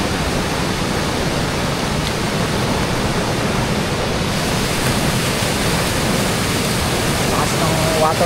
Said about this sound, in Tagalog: Lakas ng waterfalls oh.